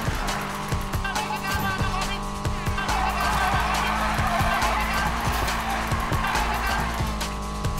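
A car engine revs hard at full throttle while driving uphill in Need for Speed Payback, steady and loud throughout, with tire squeal and game music layered on top.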